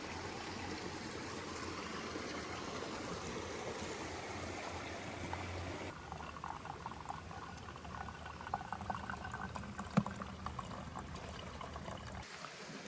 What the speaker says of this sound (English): We are going to fill up our water here. Some nice flowing water.